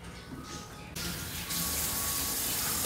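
Water pours from a tap into a bowl of soybean Manchurian coating mix, a steady close splashing stream that grows louder and brighter partway through.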